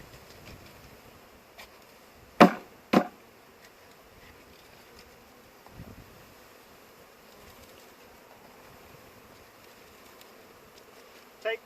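Honeybees hum and buzz faintly throughout, with a couple of sharp knocks and thuds as a package of bees is turned over and shaken into a hive, all fairly quiet.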